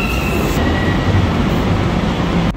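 An underground subway train runs at Penn Station in New York, a loud, steady rumble and rattle filling the space throughout, with no talking.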